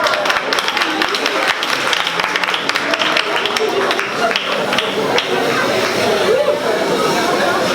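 Classroom-style audience clapping after a correct answer on the origin of Spanish, a busy wash of applause mixed with chatter and voices throughout.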